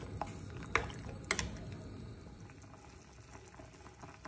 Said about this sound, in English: The soup has been simmering for the last 10 minutes now